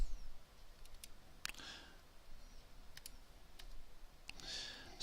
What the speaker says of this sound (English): so I'm having trouble typing